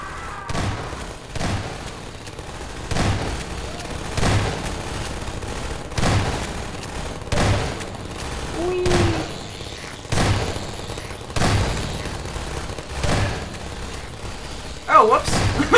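Turret gunfire in the video game Half-Life 2 Episode Two, heard as repeated heavy bursts and thuds at roughly one- to two-second intervals across the clip, with a dense background of game noise.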